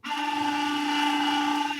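Heater fan in a Scout running on its high setting, a steady, close whirring hum with a bright tonal whine that holds unchanged for about two seconds.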